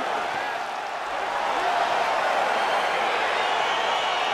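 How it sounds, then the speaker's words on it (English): Crowd cheering in the EA Sports UFC 4 video game: a loud, steady roar of an arena audience that swells slightly and holds throughout, with no distinct voices above it. "Crowd getting excited as this fight gets underway"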